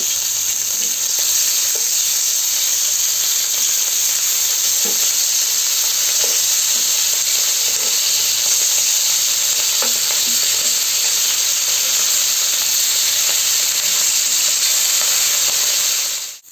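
Hilsa fish pieces frying lightly on a tawa and flipped, a loud continuous sizzle with scattered spatters and small clinks nearby, steady throughout with no speech.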